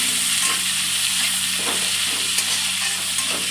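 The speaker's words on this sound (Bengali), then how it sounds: "এবার এই পেঁয়াজ কুচি দিয়ে দেবো পেঁয়াজগুলো একটু নাড়াচাড়া করে নিই" Chopped onions frying and being stirred in a pan: a steady, close, loud sizzle throughout with a few soft scraping strokes of a utensil, no voices.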